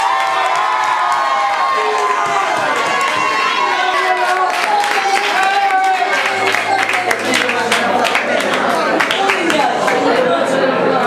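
A concert audience at the Royal Tour 2007 applauds and cheers for a singer, loud, continuous clapping with shouts, and music beginning underneath toward the end.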